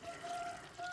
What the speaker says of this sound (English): Put on a little more water.